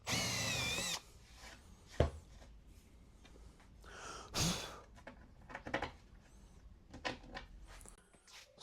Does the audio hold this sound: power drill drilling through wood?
yes